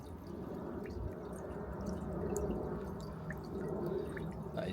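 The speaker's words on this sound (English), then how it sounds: "That is definitely washing some sludge down." Water running and trickling down a blocked household drain, washing loosened sludge through; a steady, close, low gurgling wash with faint drips, no talking.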